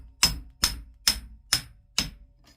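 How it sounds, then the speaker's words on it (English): Five sharp metallic taps from a hammer on scrap copper, evenly spaced about half a second apart, close and crisp with no talking. "take a hammer, tap it a little bit."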